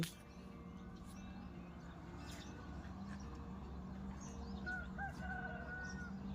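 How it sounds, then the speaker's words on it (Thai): A rooster crows at almost seven in the morning at a rural garden home, a faint, distant crow rising midway over a quiet hum of outdoor ambience with small bird chirps. "ไก่ขันตอน"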